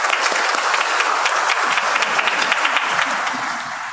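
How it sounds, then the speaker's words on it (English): A round of applause at a Eucharistic celebration for the formal investiture of Rev. Fr. Karel San Juan, SJ: full, sustained clapping from a large congregation with crisp individual claps, easing slightly toward the end. "We give you a round of applause."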